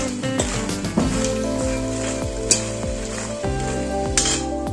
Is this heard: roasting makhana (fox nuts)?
yes